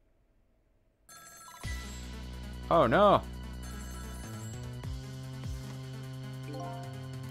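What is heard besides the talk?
telephone ringing in the video game Ghost Trick: Phantom Detective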